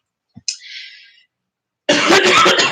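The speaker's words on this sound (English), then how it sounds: "I'm coughing." A single person coughs: a short throaty burst, then a longer rough cough follows after a brief pause, loud and close in a quiet room.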